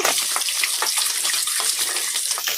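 Eggs frying in a pan over a medium flame, a steady close hiss and sizzle running throughout with soft scraping as they are stirred, no voices.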